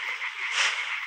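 A frog in the video game Limbo gives a single continuous, raspy croak lasting about a second, steady and moderately loud with no voices.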